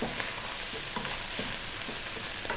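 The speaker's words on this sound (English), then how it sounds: "That is our rice frying." Steady crackling sizzle of Indian-style vegetable fried rice frying in a hot pan, with occasional scraping stirs, close and moderately loud.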